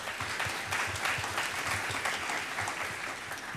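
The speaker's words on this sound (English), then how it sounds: "Let's give Katie a round of applause" An audience at a conference on state college advising reform applauds in a steady, dense round of clapping that holds at an even level for the whole stretch.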